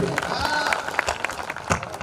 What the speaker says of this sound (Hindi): फिर बजा दो तालियां